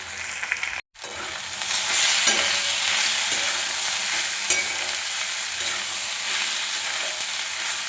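Ginger, garlic and turmeric powder fry in a pan for cauliflower curry, a loud steady sizzling hiss after a brief cut near the start, with faint stirring scrapes.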